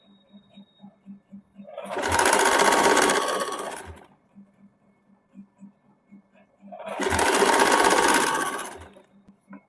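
Sewing machine running lock stitch on suit fabric in a beginners' class, two close bursts of rapid whirring stitches separated by a pause filled with faint ticking.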